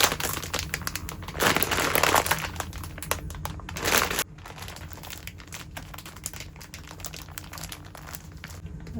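Plastic mushroom grow bag handled and squeezed to push air out, giving loud crinkling and crackling bursts that rise and fall over several seconds, then softer rustling, with no talk.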